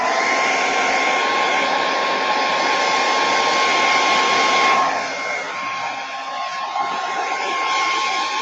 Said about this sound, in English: So I'm going to really quickly hit this with the dryer.